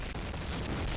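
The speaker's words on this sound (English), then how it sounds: "Go with that nade." A grenade blast in the World War II shooter Call of Duty: United Offensive: a dense, loud, rumbling burst of noise that fills the whole moment without any clear gap.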